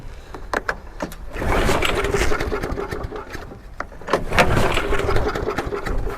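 Petrol lawnmower engine cranking and catching, with rough bursts of mechanical noise that rise into a sustained running drone, dip briefly, then surge again close by.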